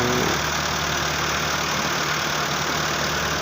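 Engine of a 375 tractor running steadily in a rice field during land preparation, a continuous close, loud mechanical drone with no talk.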